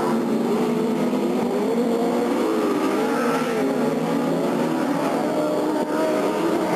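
A stock race car engine roars off turn 4 at Delta Speedway, a steady loud drone with shifting pitch as it accelerates, heard from the grandstand with crowd and track noise around it.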